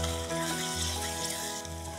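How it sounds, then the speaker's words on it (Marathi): Spiced masala with red chili powder and salt sautés in hot oil for a chicken curry, a soft continuous sizzle with faint stirring, quiet and close, with no talking. "आता हे 2 ते 3 मिनिटं आणखी परतून घेऊया."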